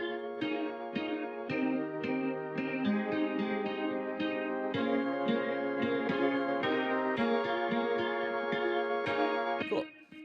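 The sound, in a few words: synth pad and top end lead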